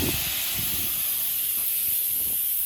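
A pressure cooker releases steam in one continuous, loud hiss, close by and without pause, with a few faint low knocks underneath.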